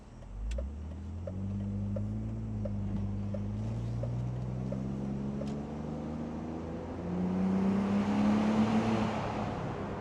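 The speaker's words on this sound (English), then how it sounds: "Doesn't sound that bad either for a stock exhaust." A 2000 BMW Z3 with its stock exhaust pulls hard on a winding road, the engine note climbing steadily through the gears with a deep, continuous drone that swells louder toward the end.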